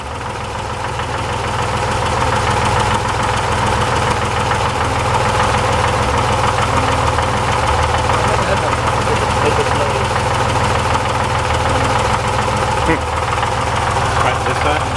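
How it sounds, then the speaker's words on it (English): An engine idles with an erratic rattle and knock that varies slightly each crankshaft revolution, a steady loud mechanical clatter that continues for the full length with no pauses. "Rattling, rapping away. But it's erratic. It's not consistent."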